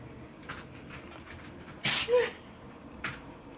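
A dog sneezes sharply and loudly close by, a quick burst in the middle. A smaller sneeze-like puff follows a second later against a quiet indoor background.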